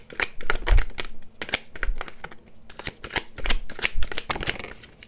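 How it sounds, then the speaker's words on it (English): Tarot cards are shuffled and cut by hand in a run of crisp riffling bursts, near and fairly loud, with short pauses between handfuls and no talking. "let's go ahead and cut these cards"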